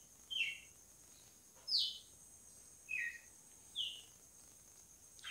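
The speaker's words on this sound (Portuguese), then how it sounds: "Eu queria saber, Rosinaldo, se esses passarinhos vão interferir aí no meu filhotão." Small songbirds heard near a young Campina finch: four short, high chirps spaced evenly over a faint background hiss, fairly distant and quiet.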